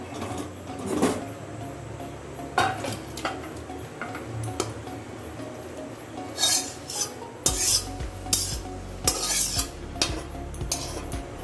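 Chal potol curry, a Bengali rice and pointed gourd dish finished with ghee, scraped and poured from a pan, with repeated close metallic clinks of a spoon against the pan and soft rustling, no talking.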